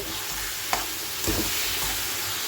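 A pan sizzles softly and continuously as tomatoes are stirred, with a couple of brief scraping clinks from the spoon.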